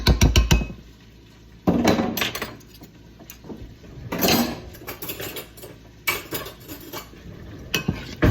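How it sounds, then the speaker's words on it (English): A potato masher pounds and squishes avocado in a bowl for homemade guacamole, giving loud, irregular wet thuds and scraping clatter against the bowl in bursts with short pauses. "we're coming in with a potato masher. We're gonna mash all that avocado up"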